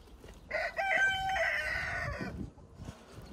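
A single broody hen lets out one drawn-out, crowing-like call lasting about two seconds, close and fairly loud, then quiet.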